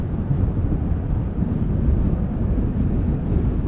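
Strong wind buffets the microphone at Schiphol airport near the Polderbaan runway, a steady loud low rumble with gusty swells throughout and no talking.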